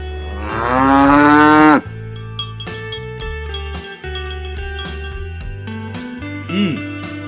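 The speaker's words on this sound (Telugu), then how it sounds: "ఆవు." A single loud, drawn-out cow moo rings out close by at the start, then gives way to bright, tuneful background music.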